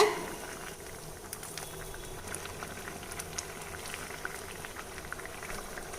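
Kavuni black rice porridge boiling in a covered pot, a steady bubbling simmer with soft pops and patter, close and even throughout.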